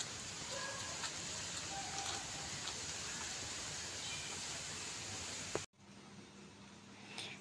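Steady rain hisses down in a dense wash of noise, then cuts off abruptly, leaving a quieter background.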